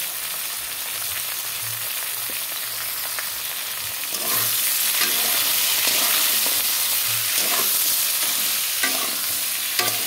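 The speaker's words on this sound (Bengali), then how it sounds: "সবাই দেখতে থাকো আমি সজনে ডাঁটা কীভাবে রান্না করলাম।" Drumstick vegetable (sajne data) stirred and frying in a pan with turmeric, a steady sizzle that grows louder midway, with scraping stir strokes throughout and no talking.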